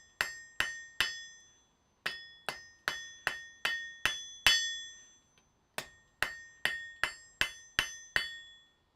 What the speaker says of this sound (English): pulling it right out to the edge of my anvil so I can get the oblique blows in here on here.